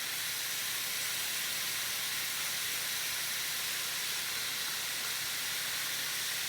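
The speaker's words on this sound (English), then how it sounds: "Now for this batch, we're going to go ahead and add our garlic." Garlic hitting a hot pan during a cashew chicken stir-fry gives a steady, even sizzling hiss that holds at a moderate level throughout, with no voices.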